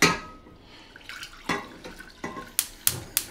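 Hot water and milk poured into a saucepan in a home kitchen: a few scattered liquid drips and splashes with sharp clinks near the end, close and fairly quiet, with no talk.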